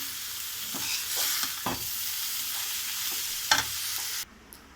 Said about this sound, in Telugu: ఇందులో బీరకాయ వేసుకుంటున్నాము